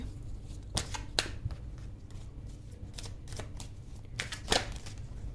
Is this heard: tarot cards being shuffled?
yes